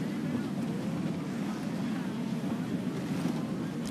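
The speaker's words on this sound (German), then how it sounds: "Vorsichtig, der Wind ist gerade ziemlich arschig. Ein Sturm, sieht übel aus." Stormy wind roars around a sailing ship at sea in Assassin's Creed 4: Black Flag, a dense, steady rush with creaking and water wash, loud and continuous throughout.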